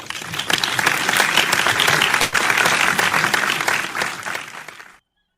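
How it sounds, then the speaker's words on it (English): Audience at a public speaking championship final applauding to welcome a distinguished Toastmaster as global advisor, a loud, steady wave of clapping that swells quickly, holds for several seconds, then cuts off. "With a big round of applause, please welcome our global advisor, distinguished Toastmaster Dhanu Rajwani."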